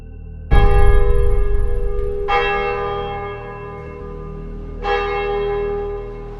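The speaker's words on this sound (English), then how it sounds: "A soft chime echoed through the early morning silence, piercing the stillness." A soft bell chimes in the early morning stillness, three struck tones spaced a couple of seconds apart, each ringing out with a long, shimmering church-bell decay that lingers between strikes.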